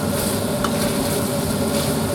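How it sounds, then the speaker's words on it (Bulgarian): Onions sizzling and frying in a pan with meat, a steady dense crackle held at even loudness with no voices. "Време е да сложим да се запържи лука."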